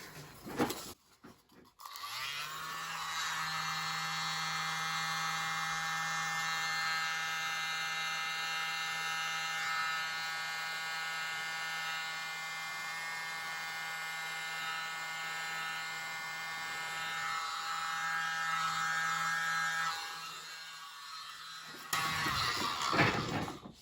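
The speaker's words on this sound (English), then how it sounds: "Use my mini blower again." Mini blower pushing acrylic paint across a pour canvas, a steady close electric whine with a low motor hum that switches on, runs unbroken for about twenty seconds, then cuts off.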